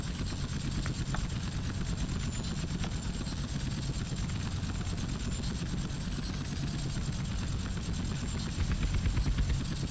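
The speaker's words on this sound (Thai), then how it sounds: "เครื่องบินมันก็เร็วอยู่แล้วล่ะ" An aircraft engine drones steadily in GTA San Andreas, a constant dense rumbling roar with a high whine, loud and unbroken throughout with no talk.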